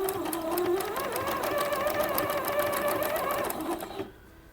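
A sewing machine runs in a fast, even rhythm of stitches for about four seconds, close and loud, then stops abruptly and leaves near silence.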